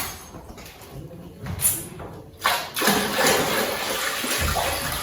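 Ten litres of water poured into a container while preparing a lime solution for a sawdust oyster mushroom substrate: a steady rushing, splashing pour that builds and continues loudly throughout.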